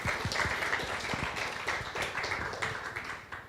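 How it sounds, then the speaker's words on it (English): Audience applause closing a leadership and decision-making talk: quiet, scattered claps from a small group, irregular and sustained for a few seconds without talk. "clap to yourself"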